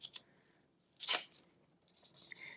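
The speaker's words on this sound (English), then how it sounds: "Now we're going to cut that out. So be very careful when you're cutting it out. I'm going to cut away all this extra first." Scissors snipping through layered folded paper while cutting out a flower design: a few quiet, close cuts, one louder crisp snip in the middle, then faint rustling and trimming.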